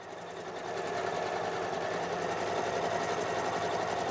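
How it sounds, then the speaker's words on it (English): Janome Memory Craft 550E embroidery machine stitching a quilting design, a steady, fairly quiet mechanical whir with rapid needle chatter that runs without a break after a brief ramp-up. "as you can tell, it's not the loudest embroidery machine, which is pretty nice. And it does move pretty quickly"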